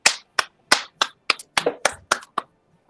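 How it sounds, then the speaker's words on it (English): Hand clapping, about ten sharp, close claps in an uneven rhythm with short gaps, crisp and dry, ending in quiet. "I applaud you"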